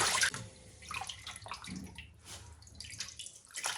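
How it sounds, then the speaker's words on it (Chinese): Peeled shrimp are swished and rinsed in a bowl of warm water, giving close, irregular splashing and sloshing with small drips, and no talking. "虾仁剥好以后要倒入清水里，要清洗干净"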